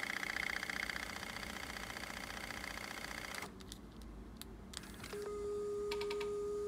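A Nakamichi 680ZX cassette deck fast-forwards a noisy test tape, with a steady whirring mechanical drone that shifts tone partway through and settles into a steady hum with a faint tone, close and continuous.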